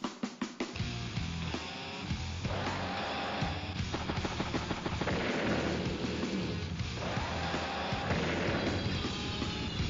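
A bomber strike on an anti-air unit in the game Advance Wars: Days of Ruin sets off loud, booming explosions that roll into a dense, crackling rumble of blasts lasting several seconds, with no voices.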